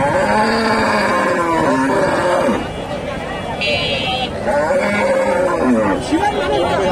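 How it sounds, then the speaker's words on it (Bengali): Local cows moo with long low calls amid a busy crowd of talking voices at the Dhap cattle market in Bogura, Bangladesh, with a brief horn-like tone partway through. "দেশি গাভী"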